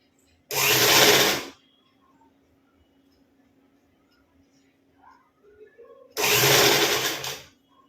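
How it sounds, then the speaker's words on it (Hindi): A sewing machine runs two separate loud bursts while stitching a high-neck blouse, with near silence and a faint low hum between the runs. "जैसे राउंड अप है उसी तरह ही एक सिलाई कर दीजिए"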